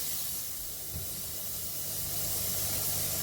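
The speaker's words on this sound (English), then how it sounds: "So let it boil for a minute and then it's ready for our milk." Sugar water boiling in a pan for vermicelli payasam, a steady close hissing bubble that holds evenly throughout with no voices.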